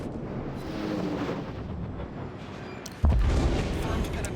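Battleship Amagi's main guns fire in World of Warships, a sudden loud, deep boom that erupts near the end over a steady rumbling background of engine and ambient game noise.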